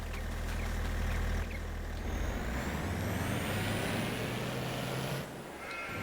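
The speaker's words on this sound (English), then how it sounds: "Actually, let's go get in our truck." Pickup truck in Farming Simulator running with a steady low engine drone, a brief hiss like an air brake release, then driving on with faint whining tones, no talk.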